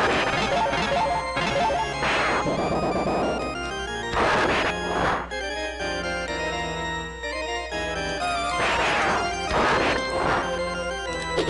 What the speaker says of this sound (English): I suppose I ought to be smashing these things.